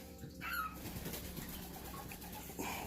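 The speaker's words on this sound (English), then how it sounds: "Bird's going crazy." A pet bird flutters its wings and coos excitedly indoors during a guinea pig health check, a steady mix of flapping and soft calls with a louder burst near the end.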